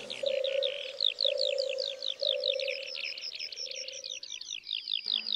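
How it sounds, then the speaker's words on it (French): Male Eurasian bullfinch in French countryside, with a steady low piping tone repeating alongside rapid high chirping trills from small birds, close and clear with no talk. "Regardez ce mâle bouvreuil,"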